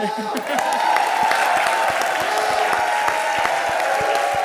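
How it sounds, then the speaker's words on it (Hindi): Studio audience on a Hindi comedy show breaks into steady clapping and applause under a continuous crowd din and music, with sharp individual claps standing out throughout. "तो भी ठोको ताली, देख क्या रहे हो?"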